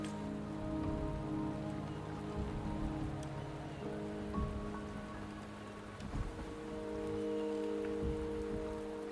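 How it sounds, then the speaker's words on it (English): Video game rain patters steadily on surfaces with soft scattered drops and occasional louder splashes, layered over sustained tonal background music throughout. "The rain is subsiding, and the sky will soon clear."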